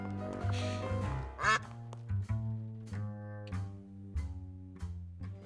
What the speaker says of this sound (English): There's a dedicated quack button.